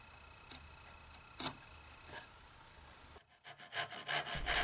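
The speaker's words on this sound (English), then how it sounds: "And then I'll saw along that line." A hand saw cuts through wood along a miter line while a dovetailed tea chest case is built, giving a run of rhythmic rasping strokes that grow louder and quicker near the end.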